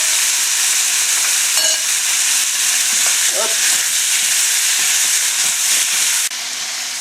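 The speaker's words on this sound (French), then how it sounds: "Ça fait 3 minutes et demie que nos crevettes et notre bœuf sont dans le wok." Beef and shrimp stir-fry in a hot wok with a loud, continuous sizzle and hiss. Occasional brief clinks and scrapes from stirring sit over the steady frying, which drops slightly in level near the end.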